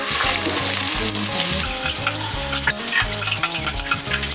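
Two cinnamon sticks, two cloves, a cardamom pod, curry leaves and onions fry in hot oil for a Kerala chicken kurma, giving a steady close sizzle with stirring scrapes under background music.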